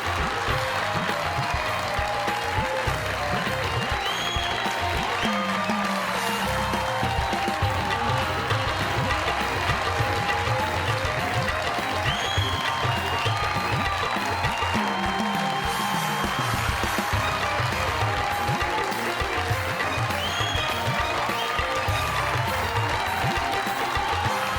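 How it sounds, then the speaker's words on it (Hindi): A studio audience on a comedy talk show claps in sustained, dense applause to welcome a guest on stage, a steady crowd roar that continues for over twenty seconds. "आप लोगों की जोरदार तालियों में"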